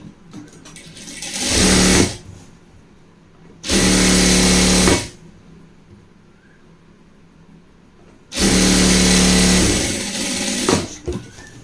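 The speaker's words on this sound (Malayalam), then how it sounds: "ഇതിങ്ങനെ തയ്ച്ചു കൊടുക്കുക. ഈ ക്രോച്ച് ഏരിയ ഇങ്ങനെ യോജിപ്പിക്കുക." Sewing machine stitching the crotch seam of a pair of trousers, running in three loud, steady bursts of about one and a half to two seconds each, separated by quiet pauses.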